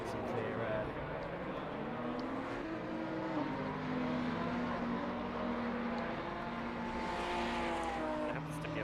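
Race car engines droning in a racing simulator at the Nurburgring, with a Ferrari among the cars, a sustained tonal engine whine shifting pitch through gear changes, steady and moderately loud while a voice talks over it.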